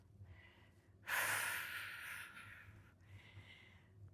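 A person catching their breath after a full-body strength exercise set, with a sharp loud exhale or gasp in the middle and softer breaths before and after, close and alone.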